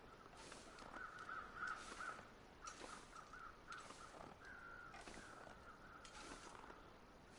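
Several crows cawing in bursts above a carcass in The Long Dark, harsh repeated calls standing out over a steady wind-like game ambience, with faint footstep-like sounds.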